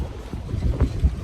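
Wind gusts across an outdoor walk, rumbling and buffeting close to the microphone in uneven low surges with no other sound standing out.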